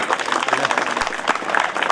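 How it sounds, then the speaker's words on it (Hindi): Crowd applause at a shooting ball championship and award ceremony, a short burst of dense, close clapping with shouts and a voice mixed in. "200 तालियां"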